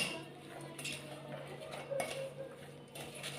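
A spoon stirs churmuri snack ingredients, puffed rice with salt, in a bowl, giving faint scattered clinks and scraping rustles at close range with no talking.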